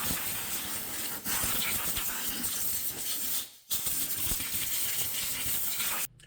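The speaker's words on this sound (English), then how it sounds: "I was actually blowing, taking the compressed air and getting up in the connectors for the coil packs" Compressed air blasts into the coil pack connectors of a Dodge Durango engine, a loud continuous hissing gush with a brief break midway, close up and without talk.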